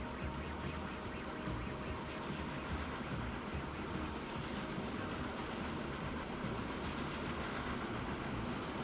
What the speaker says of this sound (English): Canadian Pacific 442 Atlantic. That's a nice looking locomotive.